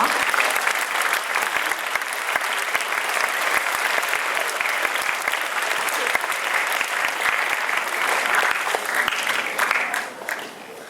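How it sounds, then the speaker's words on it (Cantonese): Sustained applause from a seated audience at a 2012 school graduation ceremony honouring award-winning students, steady and full throughout before tapering slightly at the end. "我哋以熱烈掌聲恭喜以上得獎嘅同學。"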